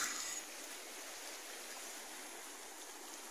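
Water flows steadily at the Barha Pani viewpoint on the Deosai plateau, making a soft, even stream-like rush. It stays constant and fairly faint throughout, with no voices over it.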